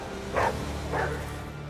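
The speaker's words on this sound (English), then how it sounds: "He barks every time he finds goods." A dog in the video game Rogue Trader gives two short, separate barks after finding goods, moderately loud and spaced about half a second apart over a quiet game background.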